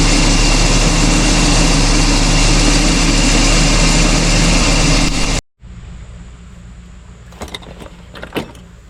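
A Toyota 20R engine fitted with an inexpensive MaXpeedingrods 22R carburetor runs at a steady, loud idle for about five seconds, then cuts to a much quieter background with a few brief clicks and knocks.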